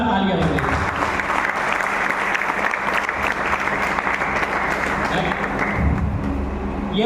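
Loud, sustained audience applause fills a sales presentation for a noni juice health product, a dense continuous clapping crowd that holds steady throughout with a slight dip near the end.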